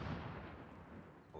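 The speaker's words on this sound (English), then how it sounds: "A lot of gunfire out there." Distant gunfire booms and crackles in the Call of Duty Warzone video game, a muffled burst of shots fading quickly into a low background rumble.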